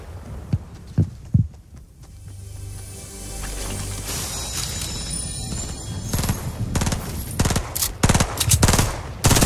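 Fortnite gunshots ring out as a few sharp reports early on, then a denser run of loud, close shots and thuds over a steady humming game soundtrack, with no talking.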